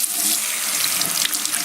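A household tap runs in a steady, close, rushing stream into a sink, with no voices over it.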